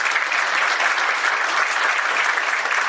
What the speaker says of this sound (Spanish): Le queremos, por favor, brindar un gran aplauso a Diego Grez esta tarde.